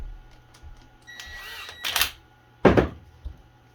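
A pipe clamp tightened on a CNC dust collection hose with a blast gate, heard as a few short clicks and ratcheting scrapes in quick bursts, close and moderately loud in a quiet workshop.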